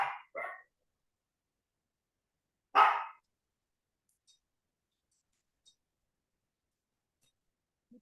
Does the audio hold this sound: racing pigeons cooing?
no